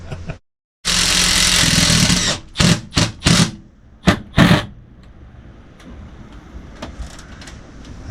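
A rivet nut on an Airstream roof is worked with a tool during an AC install, producing a long loud grinding burst followed by several short sharp mechanical bursts, then quieter faint clicks and ambient noise.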